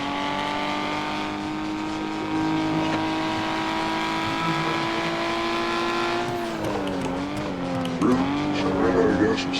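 Car engine pulls steadily with a rising then shifting tone, accelerating through gears in a continuous drone, with a brief squeal or bird-like chirps near the end; voices are not clearly present.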